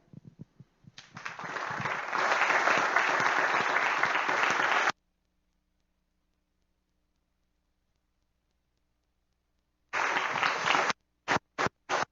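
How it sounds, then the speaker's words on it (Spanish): A burst of applause at an academic bioethics session swells and holds for a few seconds, cuts to silence, then returns briefly in short choppy bursts. "por favor demos un aplauso"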